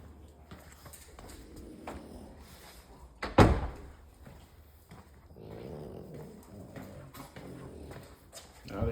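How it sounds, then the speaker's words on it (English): Garage doors being pulled shut, with one loud thud partway through and softer rattles and shuffling around it, all close by; a faint voice is heard at times. "Let me close these doors."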